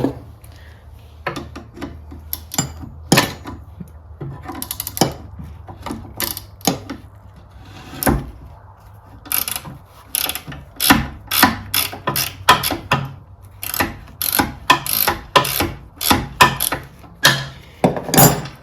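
A lock nut and bolt are worked loose on a 1960 Bolens Ride-a-matic ride-on mower, with a run of sharp metallic ratchet clicks and taps that starts sparse and grows into quick repeated bursts, close up.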